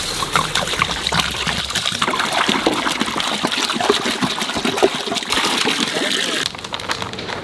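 Water poured into a large pot of basmati rice for a 50 kg mutton biryani cooked for a house-warming, a steady gushing and splashing stream that runs for several seconds, then drops off, with people talking over it.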